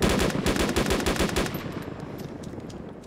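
Rapid bursts of automatic gunfire in the video game DayZ crackle loudly for about a second and a half, then fade into a lingering rumbling echo.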